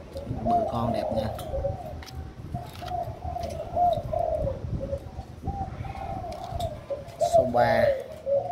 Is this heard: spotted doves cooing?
yes